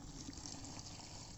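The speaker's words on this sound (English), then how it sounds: "Now we will pour water in this pot." Water is poured into a pot of crushed cow dung cake pieces, making a soft, steady trickling splash that stays quiet and continuous throughout, with no talk.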